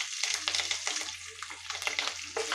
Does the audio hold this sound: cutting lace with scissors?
no